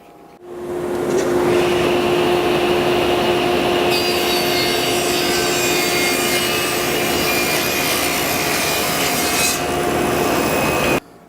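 A power saw cuts steadily through a wood piece for a router bit rack, a loud continuous whine with grinding texture that starts abruptly, holds for about ten seconds, then stops.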